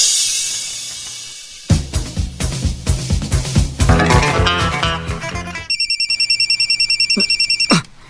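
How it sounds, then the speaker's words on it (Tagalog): A telephone bell rings loudly in a rapid repeating burst near the end, following a stretch of busy clattering and tonal music-like sounds, with no talking. "Yes, si Ropa ni nanawag"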